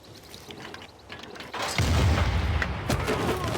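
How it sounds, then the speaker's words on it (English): Field cannon artillery firing in Civilization 6: a low booming blast swells in after a quieter opening and rolls on as a sustained heavy rumble with scattered crackling bursts. "we need to get some big artillery shooting at this guy"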